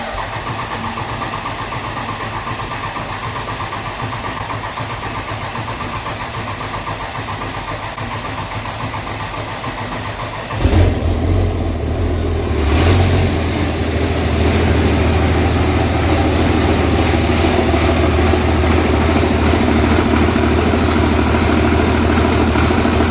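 A 24-valve Cummins diesel that lost oil pressure, fitted with a turbo, sits idle at first with only a steady background hum. Partway through, it cranks, catches and starts, then settles into a loud, rough, continuous idle that stays up close until the end.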